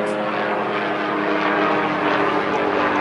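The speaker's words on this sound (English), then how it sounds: "Police helicopter." A police helicopter passes overhead, a steady broadband rotor and engine roar that holds at a constant loud level through the whole stretch with no talk.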